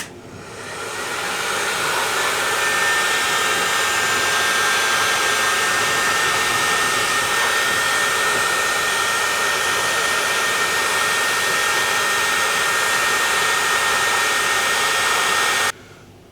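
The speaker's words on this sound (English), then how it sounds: "So I'm just going to go along with the trusty old hairdryer." Steady, continuous roar of a hair dryer blowing at close range, starting up and running evenly before cutting off at the end.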